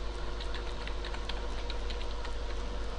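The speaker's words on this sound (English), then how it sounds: "type in your current password" Light, rapid keyboard typing while entering a password, a steady patter of close clicks over a constant low hum.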